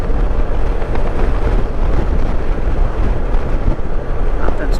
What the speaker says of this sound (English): Anyway, really windy out here. Ungodly amounts of wind.